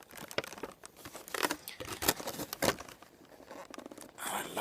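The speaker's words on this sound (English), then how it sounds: "I love the crinkly sounds this make." Plastic and cardboard packaging from a Funko Pop Jessica Rabbit figure crinkles and crackles up close in quiet, uneven bursts of rustling and light tearing.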